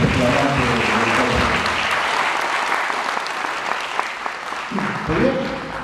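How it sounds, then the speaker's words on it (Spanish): Loud, steady applause from a conference audience on organ donation and brain death, filling the whole stretch with dense clapping while a voice speaks over it at the start and again near the end. "denle un fuerte aplauso a este flamante doctor"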